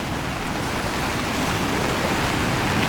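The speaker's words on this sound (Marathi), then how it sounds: "डॅमामधून हा पावसाचा फ्लो चालू आहे" Heavy floodwater roars over a dam on a swollen river in flood, a dense, unbroken rush, a loud continuous torrent with no pauses and no voices.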